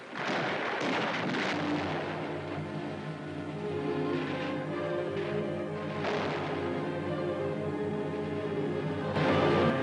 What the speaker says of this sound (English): the 5th United States Marine Division fires on Japanese gun emplacements studding the mountain